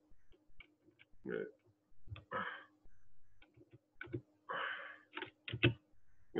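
Computer keyboard keys pressed while working in Home Designer Pro 2019 software, including the tab key, heard as quiet, scattered close clicks and taps mixed with soft muffled rustles and brief faint sounds in a quiet room.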